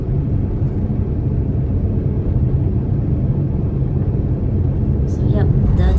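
A dust storm over a Las Vegas suburb, heard as a steady, loud broadband roar of wind buffeting the microphone, with a passing vehicle-like rumble and brief voice near the end.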